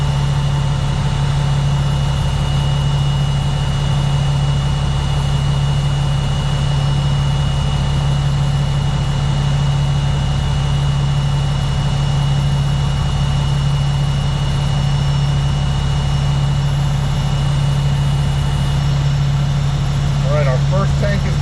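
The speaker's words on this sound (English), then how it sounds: "I return to a regular idle, and the pressure should build from 85 to 100 psi in less than 45 seconds." Truck diesel engine idling steadily during an in-cab air brake test while air pressure builds: a constant low droning hum with a strong steady tone, with a voice talking over it.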